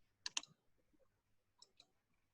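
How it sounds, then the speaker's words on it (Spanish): A computer mouse clicks during an online rheumatology case conference: two quick, faint clicks in close succession, then another soft pair a moment later, with no talk. "Hace clic sobre la presentación y pasa."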